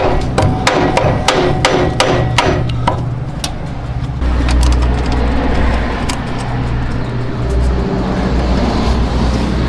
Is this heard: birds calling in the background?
no